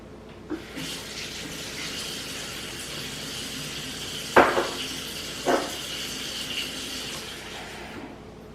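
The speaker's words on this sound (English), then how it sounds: "I'm going to put a little bit more water in here just to make sure that I get all the dye dissolved" Water running from a tap or pour into a container to dissolve yarn dye, a steady filling rush with a couple of brief louder splashes or clunks partway through.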